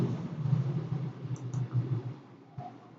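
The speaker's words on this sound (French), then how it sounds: "Je clique ici." A computer mouse clicks while drafting in AutoCAD, giving a few quiet, sharp clicks over a low background hum.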